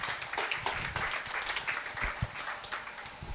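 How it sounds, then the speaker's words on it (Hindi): An audience at a formal gathering claps steadily and fairly loudly in a dense stretch of overlapping applause. "एक बार फिर से तालियां।"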